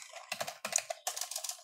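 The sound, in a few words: typing on a computer keyboard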